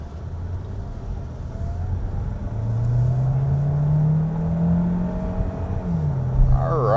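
A 2025 Kia Sorento Hybrid with a 1.6-liter turbo engine accelerates on the road, its engine note rising steadily in pitch over several seconds and then dropping as it shifts, heard from inside the cabin.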